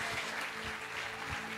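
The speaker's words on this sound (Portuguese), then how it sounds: "Continue aplaudindo ao Senhor." A church congregation applauding during worship, a steady wash of many hands clapping at moderate distance, quiet and continuous without speech over it.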